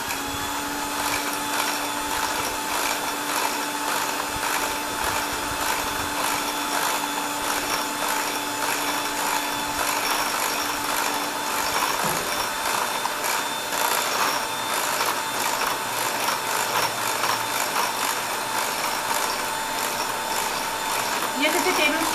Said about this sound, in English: And now I'm going to whisk this up.